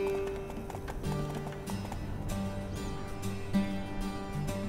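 Rhythmic clip-clop of hooves from a horse on a ride in the video game Horse Life Freunde für immer, steady and close, layered over game music with tones and chimes.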